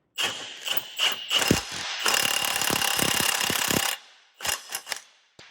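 A 3/8-inch cordless impact wrench hammers at a bolt: several short rattling bursts, then a sustained two-second run of rapid impacts, then a few more brief bursts, close and loud with no talk.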